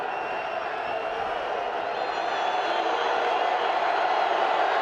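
Steady roar of a college football stadium crowd at an Eastern Washington game, a dense continuous wash of many voices that holds level throughout and swells slightly toward the end.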